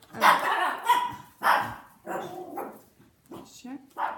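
A dog barks several times in close succession, loud and near, the barks spaced about half a second apart with a short gap before a final pair.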